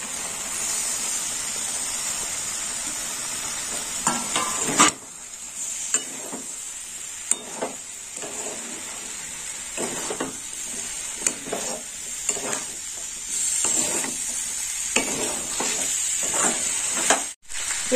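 Vegetables fry with poppy seeds in a pan for moong dal, a loud bright hiss and sizzle broken by repeated scraping stirs and a clank, with no speech.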